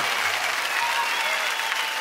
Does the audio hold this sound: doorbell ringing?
no